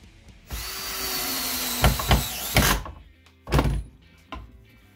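A power drill drives screws into wood while a rubber-powered crossbow is assembled, giving one long whirring run followed by several short, sharp bursts with thunks and pauses between them, close and fairly loud.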